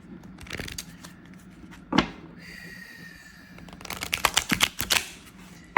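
Riffle bursts of cards being shuffled, a quick burst early, then a longer rapid flurry of flicks near the end, fairly close and crisp.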